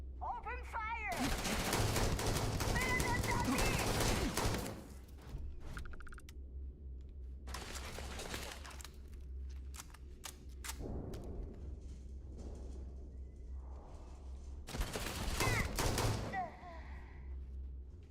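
Bursts of gunfire in Starfield, a long loud volley followed by shorter separate volleys, with some voice and game sounds between them.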